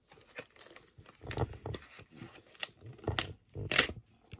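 Sticky tape peeling off craft packaging in a short run of crinkly, tearing rasps, close and fairly quiet, with one sharper rip near the end and no talk over it.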